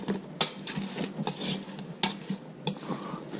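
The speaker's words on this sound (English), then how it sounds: "So mix it around." Shark pieces being mixed around in a pan for General Tso's shark, with repeated sharp metallic scrapes and clanks of a utensil against the pan at an irregular rhythm over a light background, close and fairly loud.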